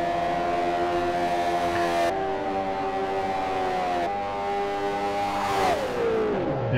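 Race cars in Forza Motorsport 4 scream past at high revs, their engine whine holding steady, then dropping as a car passes, loud and continuous with no talk.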